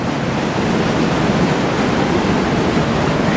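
A waterfall pours into a deep pool inside a slot canyon, a loud, steady broadband rush that fills the space and stays unbroken from start to finish.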